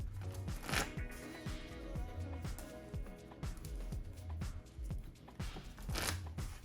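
A Pokemon TCG card deck is riffle-shuffled on a tabletop, giving close, crisp repeated flutters and snaps of cards in a quick rhythm, with occasional louder riffles.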